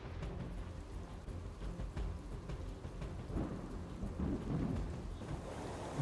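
Heavy rain pours down in Bharuch, Gujarat, a dense, steady roar of falling water with low rumbling underneath, continuing unbroken with no voices.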